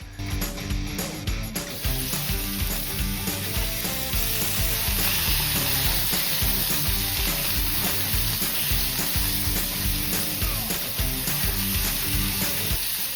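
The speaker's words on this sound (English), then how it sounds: "Once your pan is hot, add the pork and cook until it's browned" Pork sizzles loudly in a hot pan as it browns, a dense continuous crackling hiss with rapid spitting pops and a brief scrape at the start, no voices.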